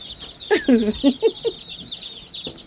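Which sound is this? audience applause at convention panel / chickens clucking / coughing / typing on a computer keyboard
chickens clucking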